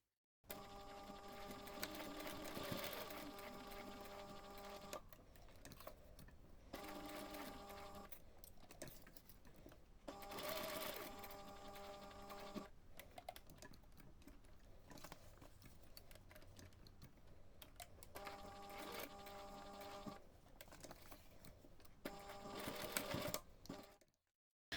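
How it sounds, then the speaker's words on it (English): Sewing machine stitching a small anchoring box through a webbing strap, running in steady mechanical bursts of rapid stitching separated by short pauses, alone with no talk. "take this to the machine and stitch a little box just to anchor everything in place"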